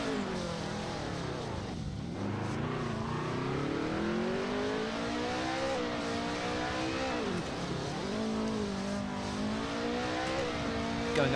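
A race car in a racing video game climbs through the gears, its engine rising in pitch, dropping at each shift and climbing again in a continuous loud whine that runs from start to finish.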